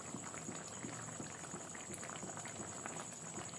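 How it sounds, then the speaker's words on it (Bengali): Steady bubbling of lentil fritters simmering in a pot of masoor dal curry with pointed gourd, a continuous close, soft boil without pause. "আমি এখন এটাকে ডালের মুসুরির ডালের বড়াটা ফুটাই নেব"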